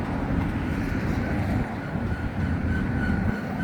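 A train rumbles steadily at a moderate distance as the locomotive throttles down, a continuous low roar with broadband wash and no distinct clank standing out.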